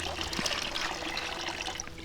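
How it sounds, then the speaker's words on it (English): A small spring in a snowy forest trickles steadily, a soft continuous watery hiss with faint splashes, close by and unbroken. "There is another spring, and this one looks nicer."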